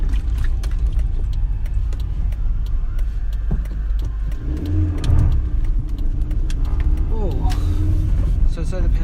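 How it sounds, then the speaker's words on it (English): A car engine runs steadily at close range, low rumble throughout with a brief rev midway, while someone talks over it, the vehicle having heavy steering and suspected low power steering fluid. "Car starts at least."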